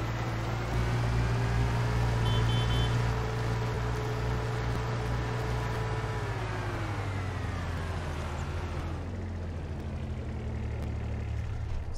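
A Kubota RTV XG850 Sidekick utility vehicle in a video game drives along with a steady, loud engine drone and a rising-then-falling pitch. A fan-like hiss runs throughout.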